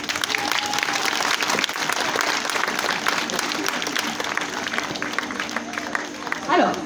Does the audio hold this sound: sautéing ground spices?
no